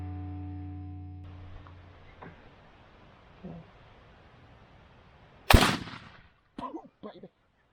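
A single sharp, loud gunshot cracks out at a tree lizard outdoors, followed by a few shorter impulsive bursts. Quiet ambience and faint movement fill the gaps before it.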